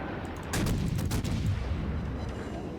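Rapid-fire ship guns in World of Warships: a dense rumbling barrage of overlapping booms with sharper shot reports in quick succession, steady and loud for the whole stretch.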